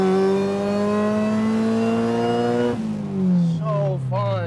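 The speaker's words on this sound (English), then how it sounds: "All you hear is the blower now." A supercharged Honda Integra GS-R engine revs with its supercharger blower whining, a loud, steady rising tone that drops sharply as the revs fall, then swells again in short pulls.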